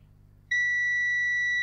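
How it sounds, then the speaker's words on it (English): Multimeter on continuity test across a faulty Evercade EXP module, one sudden steady high-pitched beep that starts after a short quiet pause and keeps sounding to the end. "My multimeter goes a little bit crazy. That's on continuity."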